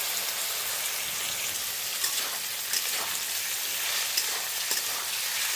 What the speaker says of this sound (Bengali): এবার এর মধ্যে দিয়ে দিলাম গাজর কুচি